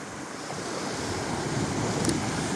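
Surf washes steadily against the shore of a quiet cove in Fethiye, Turkey, with a soft, continuous rush, slowly swelling, mixed with light wind noise and no voices.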